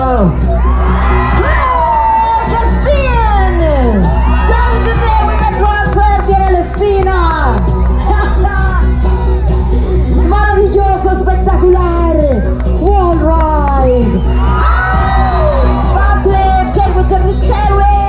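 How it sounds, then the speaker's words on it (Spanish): Loud crowd at a BMX event cheering, whooping and shouting continuously, with children's yells and excited voices rising over a steady low rumble, the noise sustained and dense throughout. "¡Que se escuche el aplauso, chavos!"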